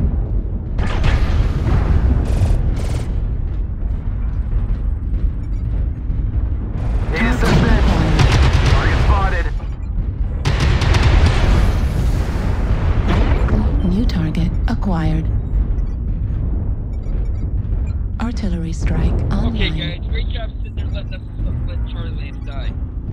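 Artillery strike explosions in MechWarrior Online, heavy booming blasts arriving in clustered waves over constant mech and engine rumble, with voices talking throughout.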